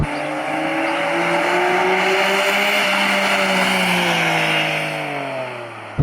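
A 1992 Nissan R32 Skyline GT-R pulls hard under partial throttle, its engine note droning close and loud with a steady tone that sags slowly before easing off, no talk over it.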